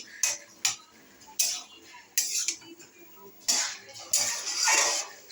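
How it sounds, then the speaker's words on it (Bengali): A cooking pot is stirred after its lid comes off, giving several separate scraping, clinking bursts of utensil against metal, close and intermittent, with quiet gaps between. "মা ঢাকাটা উঠিয়ে এখন নেড়ে আবার নাড়তে আরম্ভ করেছে"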